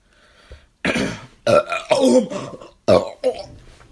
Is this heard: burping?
yes